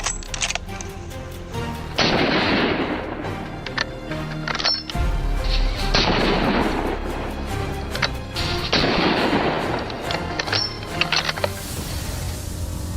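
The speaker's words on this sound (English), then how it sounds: "But 2 more thunderous shots follow quickly, extinguishing all hope." Loud hunting rifle shots fired at wild boars ring out across hilly terrain, with several sharp reports spaced a few seconds apart, each followed by a long rolling echo and no talking.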